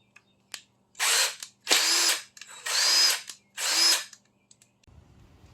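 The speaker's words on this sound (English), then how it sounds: "But I have an impact wrench or impact driver now." An impact driver fires in four loud, separate bursts of about half a second each, with short gaps between them, while working on an oil pump.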